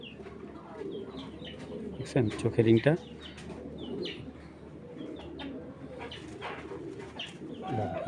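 Tournament pigeons coo and rustle nearby, with a brief burst of cooing in the middle and softer chirps around it, under someone talking.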